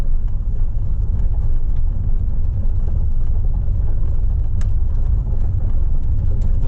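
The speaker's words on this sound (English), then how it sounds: "A lot of the noise you're hearing right now is the gravel." A Porsche Cayman S 987.1 rolls slowly over gravel, its tires giving a continuous close, dense low rumble with faint crunching and a soft engine hum beneath.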